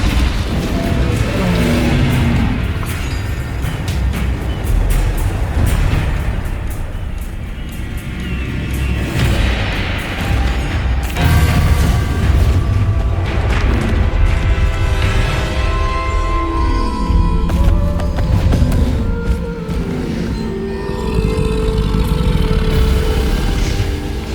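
Explosive combat spells cast in Hogwarts Legacy, a loud, continuous barrage of booms, blasts and crashing impacts layered over game music, with no pauses.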